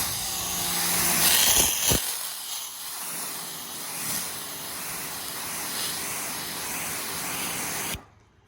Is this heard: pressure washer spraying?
yes